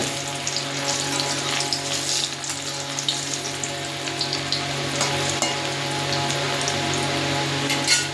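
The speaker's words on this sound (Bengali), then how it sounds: "এবার মাশরুমটা দিয়ে দেবো মাশরুমটাকে হালকা করে" Mushrooms fry in hot oil with a steady crackling sizzle and scattered popping spatters, moderately loud over a low constant hum, with no voices.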